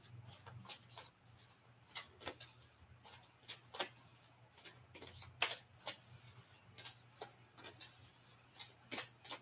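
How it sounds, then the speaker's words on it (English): Tarot cards being pulled and shuffled by hand, producing soft repeated riffling and rubbing bursts at close range, quiet and fairly regular. "I'm just pulling cards."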